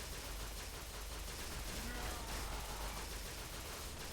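Heavy gunfire from a big gun in Fallout New Vegas, a dense, fairly faint, continuous burst of rapid shots and blasts with no clear gaps.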